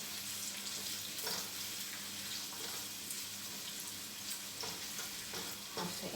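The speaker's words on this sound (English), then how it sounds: "And I will allow this to caramelize, stirring gently." Sweet onions and garlic caramelizing in a pan, a steady close sizzle with soft scraping strokes of a gently stirring utensil throughout, no talking.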